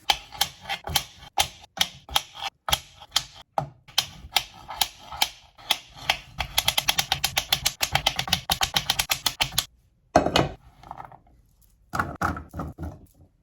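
A knife dices potatoes on a cutting board in a home kitchen, with crisp, rapid chopping taps in uneven bursts that speed into a fast run before a short pause and a final few cuts.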